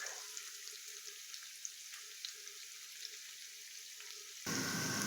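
Onion frying with unsalted pork belly in a pan: a soft, continuous crackle and sizzle with scattered pops, ending in a louder, fuller burst of frying.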